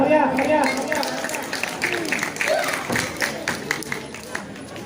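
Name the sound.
applause for a contestant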